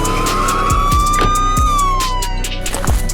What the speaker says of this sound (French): Ce bruit-là, ce genre de sirène.